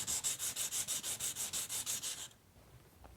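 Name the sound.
rubbing metal pendant piece into place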